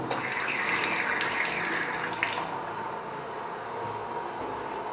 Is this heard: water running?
yes